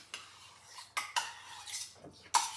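A spoon mixes grape salad in a bowl, giving several distinct scrapes and clinks against the bowl in an irregular rhythm, close and fairly quiet.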